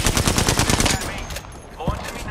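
Rapid automatic gunfire in the video game Apex Legends, a loud close stream of evenly spaced shots for about a second, then a fainter trailing shot or two.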